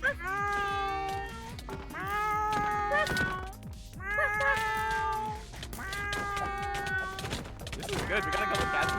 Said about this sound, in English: We got a couple cats in the VC.